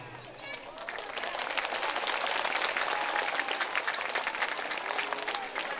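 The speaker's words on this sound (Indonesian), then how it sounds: "Beri aplaus untuk beliau" A crowd at an Islamic memorial gathering claps for a visiting preacher, with dense, loud applause rising after a brief lull and holding steadily to the end, close and sustained.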